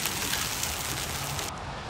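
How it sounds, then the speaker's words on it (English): Heavy rain and hail from a severe storm in Arlington, Texas, make a dense, steady roar of pelting noise that barely changes over two seconds, with no voices. "The same storm pelting Arlington with hail and heavy rain."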